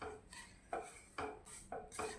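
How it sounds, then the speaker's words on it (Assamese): A spoon stirs fried semolina mixed with sugar syrup in a pan over a low gas flame, giving quiet, rhythmic scraping strokes against the pan, several in a row with no talking. "এইখিনি এতিয়া ভালদৰে মিহলাই"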